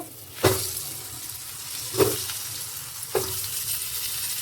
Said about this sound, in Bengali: এই যে আলুটা দিয়ে দেবো এবার আলুটা ভেজে নেবো